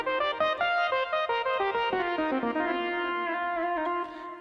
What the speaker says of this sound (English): Let's say a standard kind of mini Moog sound like this.